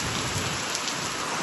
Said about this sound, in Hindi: पूरे में बारिश हो रही है